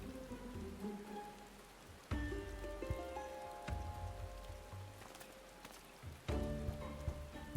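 In Final Fantasy XIV, rainfall makes a faint steady hiss beneath game music, with louder musical phrases entering at intervals while the rain keeps going underneath.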